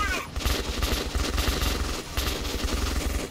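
Gunfire in the video game Metro Redux, with rapid repeated shots rattling close and loud in dense bursts over about three seconds, no voices over it.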